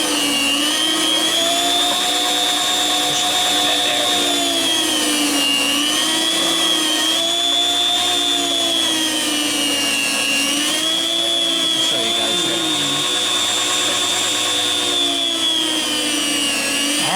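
An electric meat slicer slices sous vide corned beef, giving a steady, loud motor whine with a sustained tonal hum that rises and falls slightly throughout.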